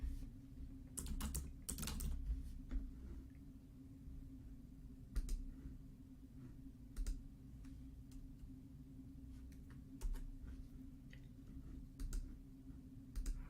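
Someone types a name and password on a computer keyboard, soft key clicks in short bursts and scattered single taps, quiet and close over a low background hum.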